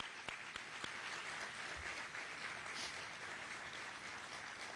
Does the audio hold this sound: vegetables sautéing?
no